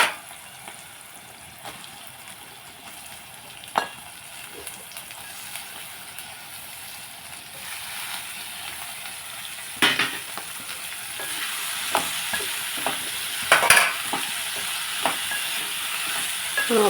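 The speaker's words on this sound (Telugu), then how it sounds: "ఇప్పుడు దొండకాయ ముక్క కూడా మనం వేసేసుకుందాం" Ivy gourd pieces go into a pan of softened onions and fry with a low, steady sizzle, broken by occasional clinks and scrapes of stirring that grow busier toward the end.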